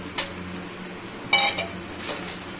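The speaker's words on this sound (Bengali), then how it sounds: "পনির, কাজু, কিশমিশ সব এগুলো একসাথে আমি মিশিয়ে নিব।" Paneer, cashews and raisins stirred together with rice in a cooking pot for paneer pulao, heard as a few scattered metal spoon scrapes and clinks against the pot over a quiet kitchen background.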